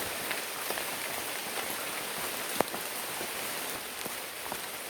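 Steady rain patters on a surface with a constant hiss, punctuated by occasional sharper drops, fairly faint and without voices, at Tanaw de Rizal park.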